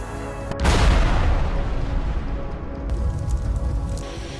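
Vehicles of a Russian motorcycle and buggy convoy explode amid the ruins of southern Pokrovsk, with a loud, sharp blast followed by sustained rumbling and crackling booms that continue at close range.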